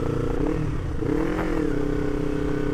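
A heavy, wide-bodied motorcycle riding through traffic, its engine droning steadily and close with slight pitch shifts as it revs, with no talk.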